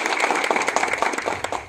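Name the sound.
crowd applause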